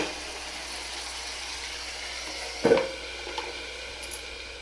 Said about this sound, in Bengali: এবার আস্তে আস্তে চিংড়ি আর আলু, টমেটো, মশলা সব একসাথে কষানো হচ্ছে